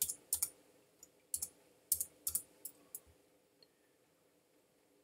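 Sharp computer keyboard clicks and mouse clicks sound during copying and pasting in a lecture, arriving in small quick clusters of two or three taps separated by short pauses, close and crisp over a quiet room with no talk.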